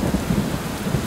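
Rain falls steadily in Final Fantasy XIV: Endwalker while low thunder rumbles roll underneath, a dense, even downpour with no talking.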